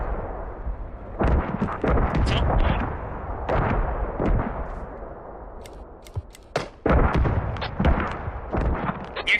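Tank cannons and guns firing in a tank video game on the Talil map: repeated heavy booms and sharp reports at irregular intervals, some close and loud, others more distant, with no voices.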